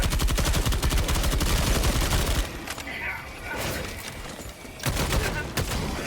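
Rapid automatic gunfire from the video game Helldivers rattles in dense bursts, breaks off for a moment and then picks up again, loud and close.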